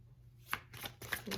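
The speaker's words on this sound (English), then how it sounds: "we're going to pull a card for each, just to clarify" Tarot cards being shuffled and drawn by hand, a few quick papery riffles and soft slaps close up, quiet and irregular, with no one talking.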